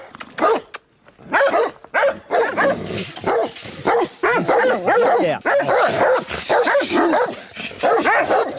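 Several dogs bark loudly and repeatedly at close range behind a gate, overlapping sharp barks and yips in rapid bursts with a few short pauses.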